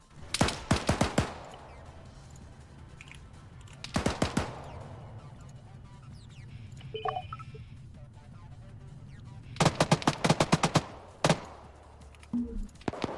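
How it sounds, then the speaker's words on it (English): A .50 cal machine gun in Arma 3 fires in three loud, close bursts of rapid heavy shots, with quieter ambient gaps and faint distant noises between the bursts. "so now the 50 cal's firing on them"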